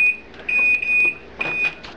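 An oven timer gives a string of sharp electronic beeps as its buttons are pressed while baking lemon bars, several separate tones of uneven length, loud and near in a kitchen.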